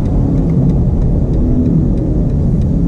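A 2019 BMW M850i under braking with a downshift, its engine giving a steady, loud low rumble from inside the cabin with a faint whirring layer above, no talking heard.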